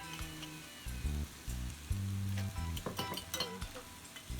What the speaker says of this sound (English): And then we're adding about 5 tablespoons of the salsa that we just made.